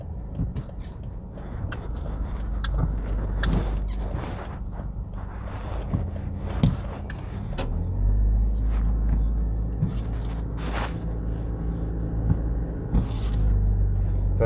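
A car drives along Hagley Park Road in Jamaica and swings through a U-turn toward an overpass, a steady low road rumble with tyre and wind noise throughout, no talk.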